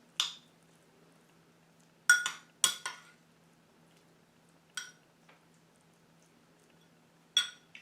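A spoon stirs brown rice with strawberries and a pat of butter in a bowl. It gives a few sparse, quiet clinks against the dish, separated by silence.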